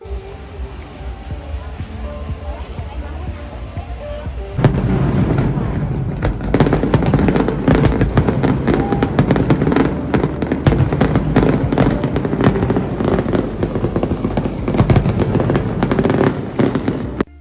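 Fireworks crackle and pop in a rapid, dense barrage after a quieter start, with sharp bangs and booms continuing for many seconds, during a night show on Phu Quoc Island, Vietnam.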